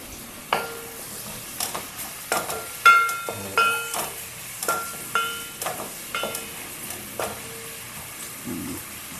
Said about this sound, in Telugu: ఉల్లిపాయలు మగ్గుతున్నాయి కదా